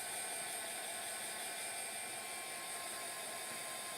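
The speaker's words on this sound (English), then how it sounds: "I'm going to give that a quick blast from the dryer" A dryer blasts a steady, loud stream of air to dry chalk paint, a constant whirring rush with no break.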